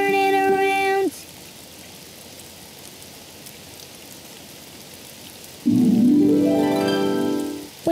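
Rain falls outside in a cartoon, a soft, steady hiss heard on its own between louder tonal passages of voice or music at the start and end.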